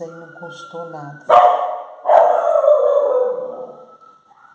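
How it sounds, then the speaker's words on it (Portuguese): A small pet dog barks and yelps loudly close by, sharp bursts followed by a drawn-out whining howl, overlapping with a person talking. "Se vocês escutarem meu cachorrinho latindo"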